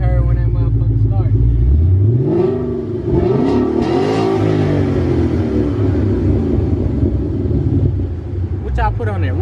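A 2013 Mustang GT with a new Flowmaster 44 Series exhaust revs hard and close, its loud, deep rumble rising and falling through several sweeps, with voices talking over it.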